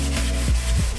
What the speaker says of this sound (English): I'm going to continue to rinse this and get this sanded because I want all these to be gone.